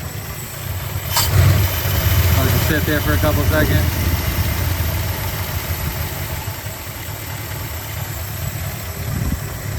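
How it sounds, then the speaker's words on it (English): A 1965 Plymouth Fury II engine idles steadily with a low, even rumble while someone talks over it. "it's idling pretty good, other than it being low"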